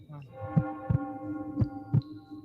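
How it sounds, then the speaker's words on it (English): Heartbeat sound effect with four evenly spaced deep thumps over a sustained humming tone, loud and close. "was wondering where I could hear the heartbeat from"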